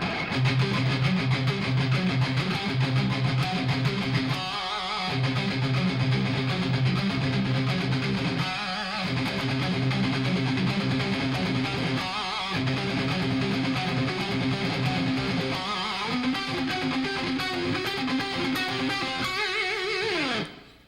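A heavily distorted electric guitar plays a chugging, tight rock riff, loud and continuous, with brief gaps between phrases and no voices.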